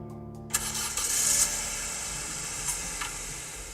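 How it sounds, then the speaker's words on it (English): A car engine cranks and catches after a brief quiet moment, then settles into a steady mid-level running hum with faint ticking, fairly close and unaccompanied by talk. "So that was a car engine starting"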